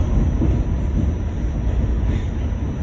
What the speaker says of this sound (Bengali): একটা ট্রেন আসছে আর একটা যাইতেছে